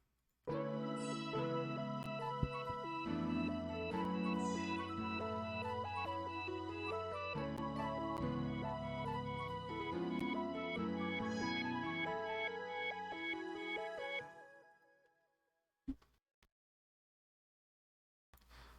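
Layered synth melodies from a beat built in FL Studio, a dense, bright loop of plucked and sustained tones playing steadily, then cutting off near the end with a brief blip after.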